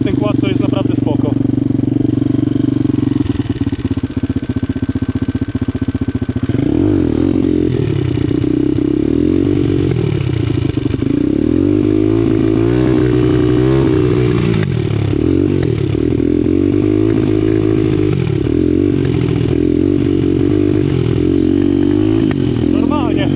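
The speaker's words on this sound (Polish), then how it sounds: "Trochę jest za głośny, ale jeżeli chodzi o to, jak się zbiera i tak dalej, ten kład, to jest naprawdę spoko." A Bashan 200 quad ATV engine running while being ridden: a loud, steady close drone whose pitch rises and falls as the throttle changes, with a voice talking over it throughout.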